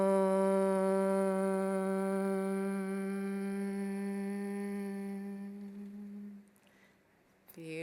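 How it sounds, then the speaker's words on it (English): A group chants a single sustained OM together during a live meditation session, a steady resonant drone lasting several seconds that fades out before a brief rustle at the end. "Let's take a deep breath fully in, and exhaling with the OM."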